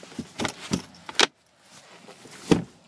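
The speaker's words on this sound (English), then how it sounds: "Seats fold back down." Rear seats of a 2016 Ram 1500 Sport pickup folding inside the cab: a quick run of close, sharp clicks and clunks, then a pause and one more solid thump, with no talking.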